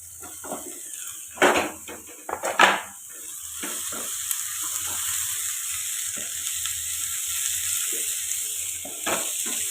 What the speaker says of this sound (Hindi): तो पत्ता गोभी ला डाल के थोड़ा भूंज लेते हैं।